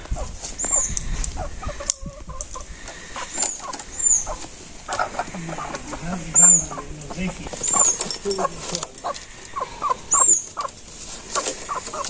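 Village chickens cluck softly and intermittently nearby, mixed with a dog's whimpers and occasional people talking in the background.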